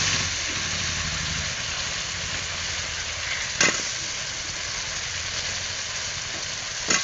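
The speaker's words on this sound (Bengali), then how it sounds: "আলুটাকে মশলার সঙ্গে ভালোভাবে কষিয়ে নেব" Cut potatoes frying in a spice paste for a fish curry hiss with a steady, moderate sizzle, broken by a couple of sharp clicks of the spoon against the pan.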